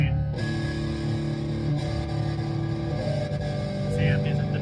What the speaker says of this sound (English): I got a lot of distortion on here.